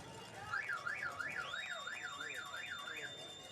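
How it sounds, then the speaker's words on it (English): A car alarm sound effect played over the PA at a high school baseball game after a foul ball wails with a rapid rising-and-falling siren tone, repeating steadily several times, loud and clear over faint crowd background. "I always love that sound effect too when they play the car alarm on the foul ball"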